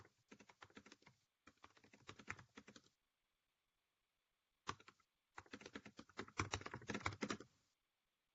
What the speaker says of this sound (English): I think we're hearing your keyboard